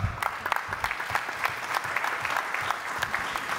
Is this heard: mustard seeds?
no